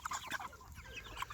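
Chickens cluck in short repeated bursts from a batch of young birds, some of them future roosters, close and fairly quiet, with a busy, overlapping flock background.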